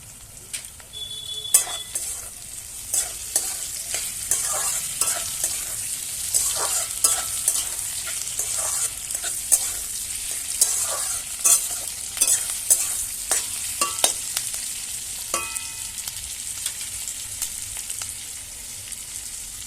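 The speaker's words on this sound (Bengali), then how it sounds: "এগুলো বেশি অত ভাজবো না, হালকা হালকা করে ভাজবো। এর মধ্যে আমি এবার একটু টমেটোটা দিয়ে দেবো।" Onions and tomato fry lightly in a pan for rajma, a steady soft sizzle under repeated sharp scrapes and clinks of a spoon stirring against the metal, with no talk.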